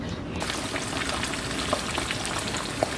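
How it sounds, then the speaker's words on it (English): Fish that was washed in lemon juice with salt and pepper and seasoned fries in hot oil for Belizean stewed fish. A steady, dense sizzle and crackle continues at an even level throughout, with occasional brighter pops and no talking. "So here's our fish frying."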